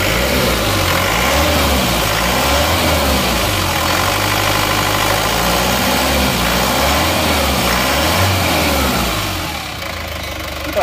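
A repaired car engine, fresh from a clutch lining and piston ring replacement, runs steadily close by with a loud, even idle and a slight rhythmic pulsing, easing off just before the end, with no talking.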